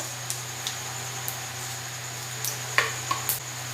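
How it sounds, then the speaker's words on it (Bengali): A tempering of dried red chili, bay leaf and cumin seeds fries in hot oil for a parwal dish, a steady soft sizzling hiss with a few faint pops and clicks, no voices. "একটা শুকনো লঙ্কা তেজপাতা একটা সাদা জিরে দিয়ে দিলাম ফোড়নটা ভাজা হোক"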